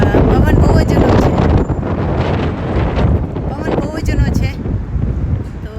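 Strong wind roars and buffets the microphone outdoors on a walk to a temple, loud and continuous throughout with little variation.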